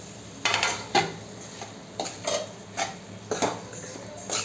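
A utensil stirs vegetables in a pan for paneer masala, giving repeated scraping and clinking strokes at a steady rhythm, close by, with a faint sizzle underneath.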